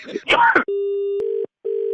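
A phone line tone sounds after a call is hung up: a brief voice comes first, then a steady electronic tone holds, cuts out briefly, and resumes, loud and clear.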